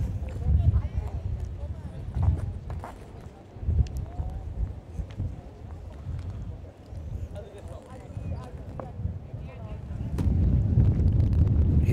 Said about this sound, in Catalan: el vent que s'anima